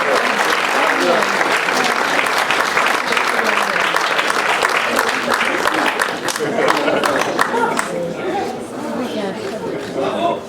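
Long, sustained audience applause at a fantasy festival prize-giving ceremony, dense and steady for about ten seconds with crowd murmur and voices mixed in, thinning slightly toward the end.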